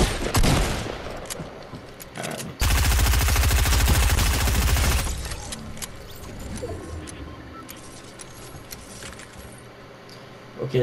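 Rapid automatic gunfire in a video game, a dense burst of sustained shots lasting a few seconds after an earlier short volley, loud and close, with players talking around it.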